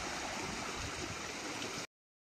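Water drains steadily out of a fishpond through an outlet, a continuous close rushing gurgle that holds level and then cuts off abruptly.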